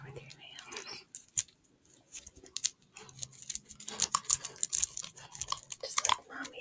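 Pitbull puppy tapping and clicking its nails for ASMR, a close, irregular scatter of sharp ticks and scratchy taps with soft whispery breaths and murmurs in between.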